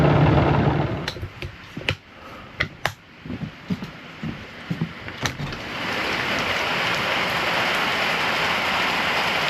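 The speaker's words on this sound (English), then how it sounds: "Yeah, it's raining pretty good." Steady rain hisses close by, starting after a stretch of scattered sharp clicks and taps, then settling into an even, unbroken downpour.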